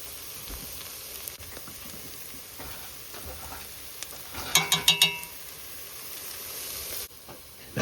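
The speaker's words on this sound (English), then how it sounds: "enjoy some more ASMR sizzling" Vegetables frying in rendered beef fat for chili, a soft steady sizzle and hiss close by, with a brief burst of louder crackling pops midway and no talk.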